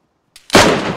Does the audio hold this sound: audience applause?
no